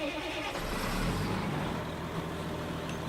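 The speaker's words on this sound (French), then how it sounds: "Là vous entendez le V12 qui tourne" A John Deere 7950 forage harvester's V12 engine runs in a farming video game mod, a steady loud drone that holds throughout with no breaks.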